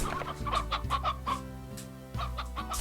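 Chickens cluck in the farming video game Slime Rancher, a close run of short, rhythmic clucks repeating over a steady low game-music drone, with no talk.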